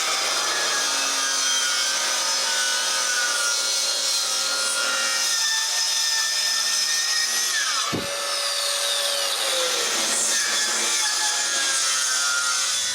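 A power saw cuts a wooden bookcase side panel, a loud continuous rasping whine that dips briefly mid-cut before resuming, with no voices.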